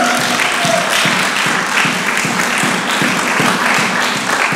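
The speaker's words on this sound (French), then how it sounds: "Est-ce qu'on peut applaudir?" A church audience at an official opening event in Stockholm applauds steadily, a dense, even wash of many hands clapping close by, with no speech over it.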